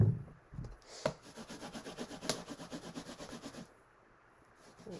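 A rubber stamp is scrubbed back and forth on a misted Stampin' Scrub pad, making soft rhythmic rubbing strokes at close range for a few seconds before the sound fades.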